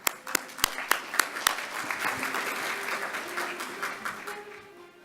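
A conference audience applauds to welcome a precision cardiovascular medicine panel, starting with a few sharp, separate claps that quickly swell into sustained, moderately loud clapping before tapering off.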